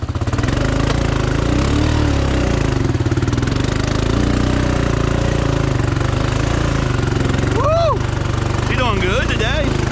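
A lifted Honda Foreman 500 ATV churns through thick mud, its engine a loud, continuous close-up drone that rises and falls with throttle, with a few brief vocal whoops near the end.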